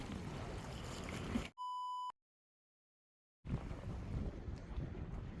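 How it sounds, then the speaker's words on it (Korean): Strong wind buffeting the microphone at a seaside fishing spot, a loud rushing roar broken by a short electronic beep and then a brief silence before the gusting returns. "지금 바람이 엄청나게 불어요"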